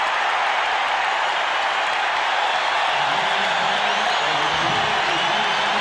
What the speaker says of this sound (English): there are a goodly number of Bears fans applauding that touchdown here in Tampa